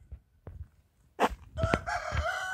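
Chickens hanging in a market stall in Hongcheon, South Korea, with a rooster crowing after a few faint clucks, the crow loud and near over quiet background noise.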